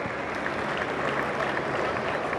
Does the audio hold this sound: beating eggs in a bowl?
no